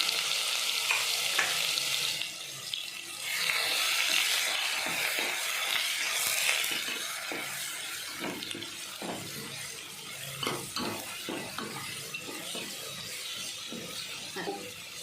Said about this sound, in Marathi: मसाला थोडा तळत आलेला आहे